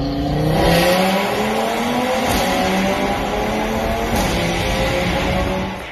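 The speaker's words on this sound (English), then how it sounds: "this is a noise made in between shifts on a dual clutch or DSG transmission" A car with a dual-clutch DSG transmission pulls hard through several gear changes, with short, blunt exhaust blips at each shift. It is loud and close, with no voices.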